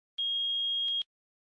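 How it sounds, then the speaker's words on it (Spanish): A multimeter in continuity test mode gives a single clean electronic beep, steady and piercing, lasting just under a second and then cutting off into silence, close and alone with no voice. "Si el multímetro marca 1 y emite un pitido"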